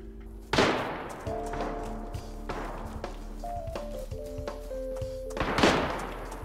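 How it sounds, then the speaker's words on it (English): Two loud rifle shots ring out in the DayZ video game, about five seconds apart, each a sharp crack with a long echoing tail, over a steady low in-game drone and faint tonal sounds. "Somebody's shooting right over here."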